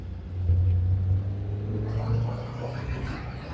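A 1983 Porsche 944 accelerating in second gear on a track, its engine giving a strong, steady low drone that swells early and holds as the car pulls, heard from inside the car.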